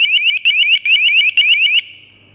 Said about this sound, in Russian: Громкая в 110 дБ сирена